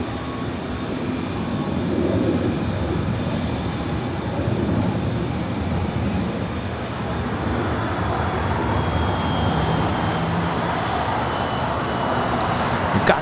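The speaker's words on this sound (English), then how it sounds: "SF Airlines heading to Anchorage, 747-400ER, flight 7002, making her way to the 25s." SF Airlines Boeing 747-400ER airliner taxiing at LAX toward the 25 runways, a broad steady jet-engine roar at moderate distance, rising and falling gently over airport background noise.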